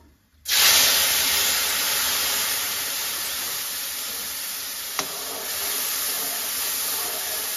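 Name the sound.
spices frying in hot oil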